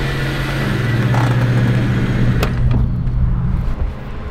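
A 4x4 engine idles and runs with a steady low hum while the vehicle cruises around, a faint click cutting through partway before the drone eases slightly toward the end.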